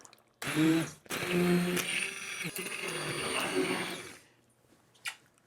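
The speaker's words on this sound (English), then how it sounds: "we'll get in with the stick blender" A stick blender whirs loudly up close in two bursts, the motor straining and wobbling as it churns boiling tomato soup, then cuts off into quiet.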